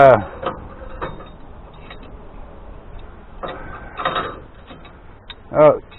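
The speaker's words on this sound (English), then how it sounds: "I just loosen that up with the crescent end wrench" A crescent wrench loosening a bolt on a tractor gives a few sharp metallic clicks and scrapes in bursts, with brief talk between them.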